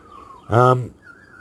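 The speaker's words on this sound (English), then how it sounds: "that's a young magpie. Just getting his voice." A young magpie gives one harsh, rasping call of about a quarter second, fairly close. A faint thinner whistle follows in the quiet.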